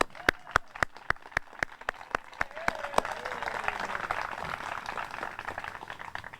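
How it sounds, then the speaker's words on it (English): Applause from an audience at an outdoor dedication ceremony for a creek corridor: sharp, evenly spaced claps at first, then a denser wash of clapping from the crowd, steady and fairly close. "Another moment of applause"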